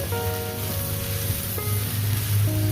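Water spinach greens with bitter gourd fry in a pan, a steady broadband sizzle running throughout, with a low hum and faint tonal background under it and no talk.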